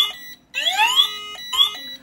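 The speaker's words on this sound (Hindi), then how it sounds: "फायर अलार्म भी आ गया है" An INIM addressable fire suppression panel sounds its fire alarm: loud electronic sweeping whoops in bursts separated by short gaps, with steady tonal beeps, close and alone.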